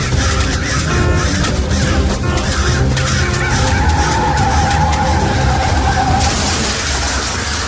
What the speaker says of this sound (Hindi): कौशिक अपनी बात पूरी कर पाए उससे पहले ही गाड़ी का सचमुच एक्सीडेंट हुआ